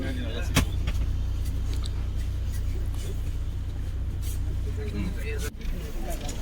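Bus pulling away from a stand at Palakkad bus station, heard from inside as a steady low engine drone with a few rattles and clunks, voices faint in the background.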